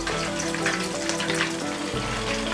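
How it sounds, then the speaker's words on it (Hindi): Chicken drumsticks fry steadily in a pan over a medium flame, a dense, continuous sizzle close up, with no voices over it. "अब इसको मीडियम फ्लेम पे हम पकाएंगे और अबाउट 10 मिनट्स तक इनको फ्राई करेंगे।"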